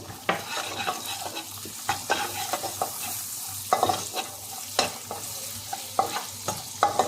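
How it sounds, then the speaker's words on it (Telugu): Cashews and almonds fry in melted butter with a soft sizzle, while a spoon stirs and scrapes the pan in repeated sharp clinks and scrapes. "కాజు బాదం దీంట్లో వేయించుకుందాము"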